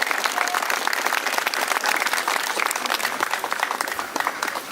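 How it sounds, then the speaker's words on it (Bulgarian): An audience at an outdoor Christmas caroling event in Dobrich applauds guest folk carolers, with steady, dense clapping throughout that stays full and loud with no pauses. "Аплодисменти за нашите прекрасни гости!"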